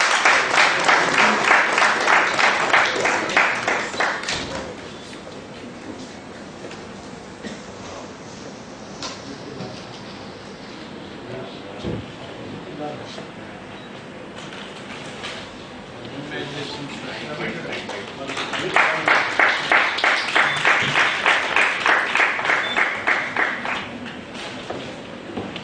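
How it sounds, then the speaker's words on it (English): An audience at a two-day conference on charitable trusts bursts into a loud round of applause in a hall as a guest is greeted with a floral bouquet; dense clapping swells at the start, eases into softer scattered claps with talk, then surges again near the end. "Big round of applause,"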